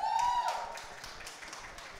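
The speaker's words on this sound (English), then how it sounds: "Can we please have a huge round of applause?" Applause from an audience at an Emmy-nominated Hindi web series launch event, a broad wash of clapping that starts loud and slowly thins, with music or tonal sound briefly at the start.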